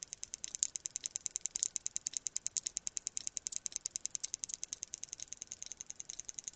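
A sperm whale clicks underwater near longline fishing gear set for sablefish. The clicks come in a steady, rapid train of sharp ticks, fairly faint and distant, with no voices.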